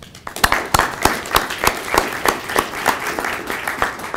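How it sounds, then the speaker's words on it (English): A symposium audience gives a short round of applause, sparse and fairly close, with individual claps landing in a loose, steady rhythm for a few seconds. "Round of applause for him, please."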